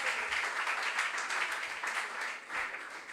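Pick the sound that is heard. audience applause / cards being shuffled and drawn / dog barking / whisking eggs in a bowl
audience applause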